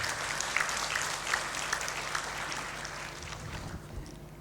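Applause from the audience at a university graduation ceremony for bachelor's and master's graduates, a steady dense clapping that fills the hall and fades slightly toward the end, with no voices over it.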